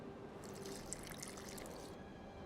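Water poured into a flask of burnt lime in a video game, a steady soft trickle and splash running for about two seconds at moderate level before easing off.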